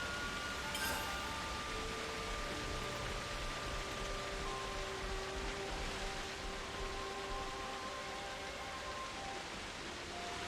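Steady rain hiss in a Xenoblade Chronicles 3 game world, a continuous broad wash at even loudness for the whole stretch, with faint sustained musical tones underneath and no talking.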